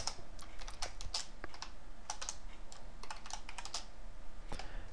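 Keys clatter on a computer keyboard in steady bursts of close, crisp taps, pausing briefly between runs while someone enters code during Qt programming.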